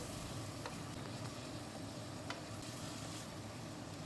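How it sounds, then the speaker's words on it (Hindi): Boneless chicken cubes frying in hot oil for a restaurant-style chicken handi, giving a steady, dense sizzle throughout with a few faint clicks and no talking. "सारे चिकन को हम तेल में शामिल कर लेंगे। अब यहाँ पर चिकन को हम पकाएंगे।"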